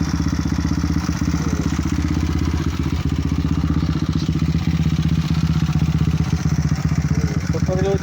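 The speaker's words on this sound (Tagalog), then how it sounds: "Pandar siya, electric starter gamit ko, super load na electric starter." A 257cc Sniper motorcycle engine with a super load electric starter, running with a fast, even, throbbing idle and mechanical clatter, close and loud throughout without pause.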